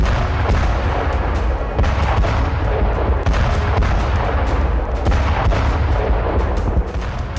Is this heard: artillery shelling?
yes